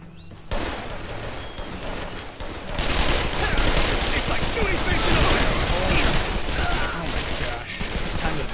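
Sustained automatic weapon fire in the video game Call of Juarez The Cartel, a loud, dense fusillade of rapid shots that swells after a quiet start and continues steadily with battle noise.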